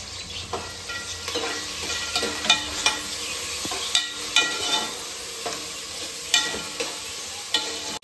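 Ginger garlic paste sizzles and fries in a hot pan for a rice dish with peas and potato, with a steady crackle broken by regular scraping stirs of a spoon, close and loud, with no talking.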